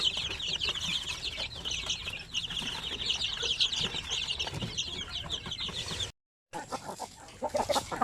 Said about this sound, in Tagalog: So nakita nyo dito, ang dami pang manok dito